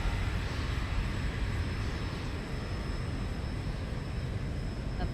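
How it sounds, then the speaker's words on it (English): Steady broadband roar of a Boeing 737 jet engine in the Zibo mod for X-Plane, continuous and even throughout, with no talk. "Yes, jet power."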